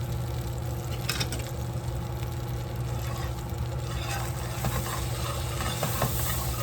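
Flour being stirred and cooked in a pan over lowered heat, with a steady soft sizzle and intermittent scraping strokes of a utensil, heard close up without talking.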